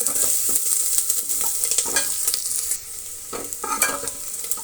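Onions frying in a pan for a fenugreek-leaf dal curry, a steady broadband sizzle with intermittent scraping stirs of a spoon, close and fairly loud, with no voices.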